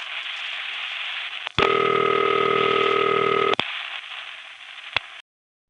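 Ringing machine of a No. 1 crossbar telephone exchange in the Bronx gives one steady two-second burst of ringing tone, a buzzy harmonic ring over faint line hiss, followed by a click and quiet line noise.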